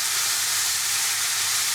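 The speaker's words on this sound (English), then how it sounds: "You've got to keep stir frying it until it's all brown." Ground meat for lasagna stir-fries in a pan, a steady bright sizzle and hiss filling the short clip without any talking.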